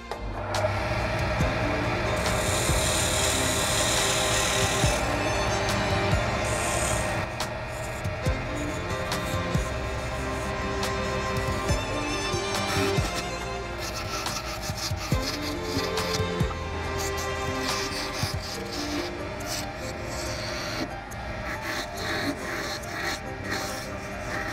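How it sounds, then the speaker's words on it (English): A thin woodturning tool scrapes and cuts a wooden chess piece spinning on a lathe, a continuous rasping hiss over the motor's steady hum, with a brighter, harsher burst of cutting early on. "Extremely thin tool for getting in those gaps."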